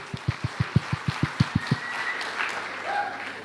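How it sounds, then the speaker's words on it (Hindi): Audience at a direct-selling motivational talk claps in unison, about ten sharp, evenly spaced claps in quick rhythm that stop abruptly, leaving faint room murmur. "एक बार जोरदार तालियां आप सभी लोगों को।"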